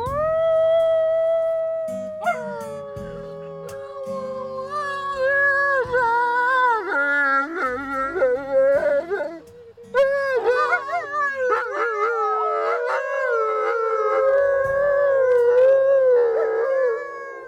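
A group of people imitates a wolf pack's family bonding howl outdoors in the Lake District, layering long rising and falling howls, yips and wavering cries that overlap loudly in chorus, with a brief pause midway.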